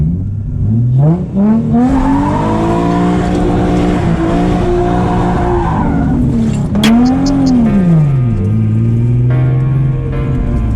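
Infiniti car swinging through a U-turn at a stop sign, its engine droning loud and close with rising and falling revs and a brief tire squeal partway through.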